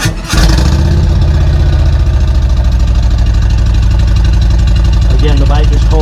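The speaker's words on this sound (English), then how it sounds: "That's at a fast idle at about 1200 RPMs." Cold 2020 Harley motorcycle with slip-on exhaust starting up and settling into a fast idle around 1200 RPM, a loud, steady, deep loping rumble close by.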